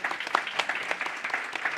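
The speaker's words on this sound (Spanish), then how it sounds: "les pediría un gran aplauso por estas intervenciones y por estos magníficos ponentes" Audience applause at the close of a conference session on aerospace robotics, a short burst of dense clapping from many hands in a hall, steady and moderately loud with no voices over it.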